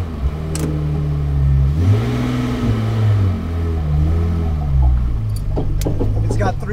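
A supercharged 600hp Nismo 350z with a 3.9 final drive, OS twin STR2 clutch and aggressive diff idles with a low steady engine note that swells in blips of revving, loud and close, with voices talking over it at times.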